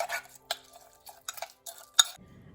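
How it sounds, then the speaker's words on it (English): A spoon scraping and clinking in a pan while stirring seasoning with curry leaves, several separate close strokes with pauses between them, followed by a soft sizzle. "And we're going to stir this up."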